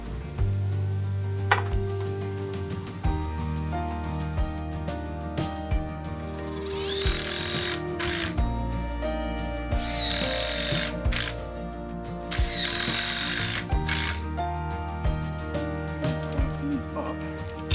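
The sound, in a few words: power drill screwing rope to a tree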